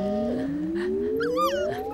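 A dog in a comedy scene gives a drawn-out rising whine, fairly close, with faint background noise and no speech.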